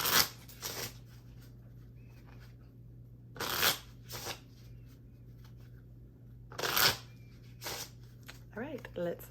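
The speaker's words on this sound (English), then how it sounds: "Okay, shuffling." A deck of playing cards is shuffled in three quick riffle bursts spaced a few seconds apart, close and crisp, with a steady low hum between them and a voice speaking briefly at the end.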